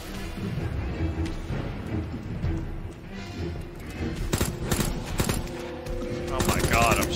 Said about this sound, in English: the shotgun's good though, so I'm fine with the shotgun